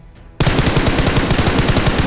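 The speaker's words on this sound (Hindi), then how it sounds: "ये देखो अभी तो स्कूल से फायर चल रही है पहाड़ के ऊपर, ये पड़ा है शॉट" Automatic gunfire in Battlegrounds Mobile India (BGMI): after a brief quiet moment, a loud, sustained rapid burst of shots in an even, fast rhythm, close and continuous to the end.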